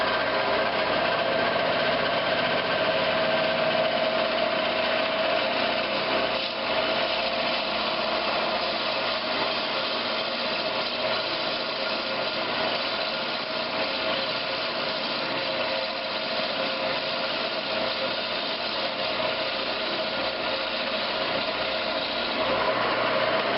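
A wood lathe turns a tenon on a wooden rolling pin, with a loud, continuous motor whine and cutting noise running steadily throughout and no speech.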